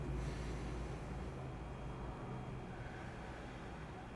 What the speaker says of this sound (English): Go ahead and breathe in.